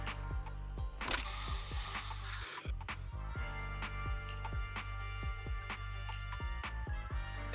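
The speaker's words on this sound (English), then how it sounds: "Here, have a taste of this special Bangboo spray." A burst of Bangboo spray in Zenless Zone Zero lets out a bright hissing blast of about a second and a half, followed by rhythmic mechanical ratcheting clicks over a low droning game soundtrack.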